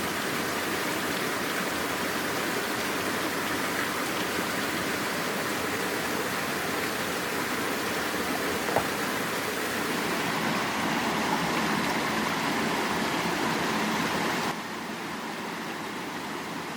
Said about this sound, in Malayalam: ഇതാണ് കൾച്ചർ തോട്.